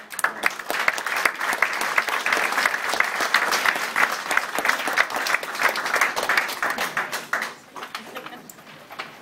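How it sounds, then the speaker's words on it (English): A conference audience applauds a product team in Dublin, dense sustained clapping from many hands that tapers off toward the end. "I wanted to give a round of applause to the best product team on the globe."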